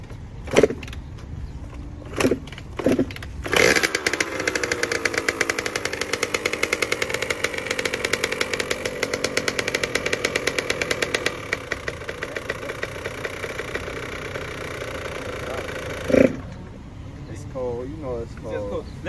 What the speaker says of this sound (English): Might be a little cold, but this is a cold start.